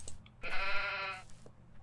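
A single goat bleats in the Minetest video game, one clear wavering cry of about a second, close and alone over faint background hum.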